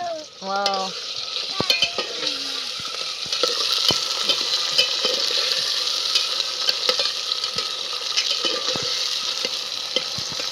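Washed green peas frying in a pan for masale bhat, a steady close sizzle broken by repeated scraping stirs and light clinks of a utensil against the pan.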